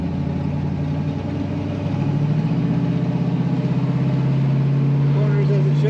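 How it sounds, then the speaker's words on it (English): A 1965 Ford Mustang convertible with an automatic shifter gives a close, steady low engine and exhaust rumble that deepens slightly partway through while driving. "You can hear that rumble. This car has a nice exhaust sound."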